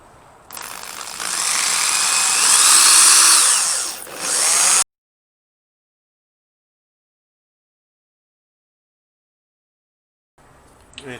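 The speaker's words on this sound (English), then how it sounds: "Now we just drill a bunch of holes." An electric drill bores into lawnmower blade steel for a Viking seax handle, a loud steady high whine rising and grinding for about four seconds before cutting off abruptly, followed by long silence and a faint clatter.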